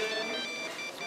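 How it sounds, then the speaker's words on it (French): A telephone rings with a bright, tonal ringtone that sounds steadily throughout the brief moment, fairly clear and with no one speaking over it. "il y a ton téléphone qui sonne"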